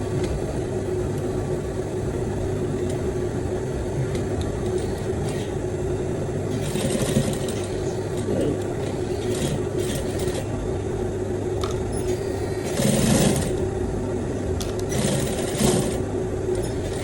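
A sewing machine stitches a welt pocket, running with a steady mechanical whirr and rapid needle chatter, with a few louder bursts as the stitching speeds up.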